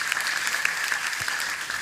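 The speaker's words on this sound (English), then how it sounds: "So can we please have a round of applause for Yogendra Prabhu, Nityananda, Isha, Manish, anyone else there," Steady applause from a devotional gathering at Bhaktivedanta Manor for the tech team, a dense, even patter of many hands sustained throughout at moderate distance, with no talk over it.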